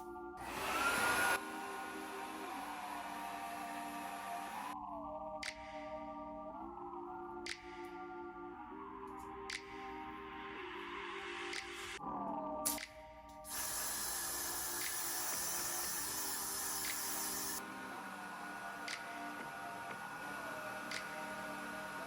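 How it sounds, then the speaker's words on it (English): A hair dryer blows steadily and loudly for a long stretch while hair is styled into a swoop donut bun, with a few short hisses of hairspray and brief pauses and pitch shifts as the dryer is moved. "We're gonna hairspray the rest of the section and then follow in with the brush one more time, and then blow dry it"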